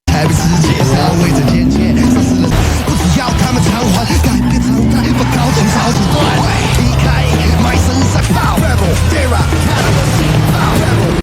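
Cars racing in a movie chase, engines roaring under a dense, loud soundtrack mix with tire noise and impacts, continuous and driving throughout.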